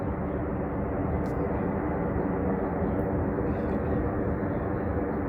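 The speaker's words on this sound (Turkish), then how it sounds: "burada bir de uçaklar çok geçiyor ya" Airplane passing over a seaside beach at Florya, Yeşilköy, a steady broad engine roar held at constant loudness, fairly distant, with no talk.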